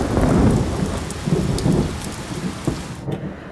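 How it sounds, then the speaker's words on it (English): Heavy rain pours down steadily with low rumbles of thunder rolling through a storm outdoors, loud and continuous before the sound cuts off abruptly near the end. "thunder and lightning and all sorts out there"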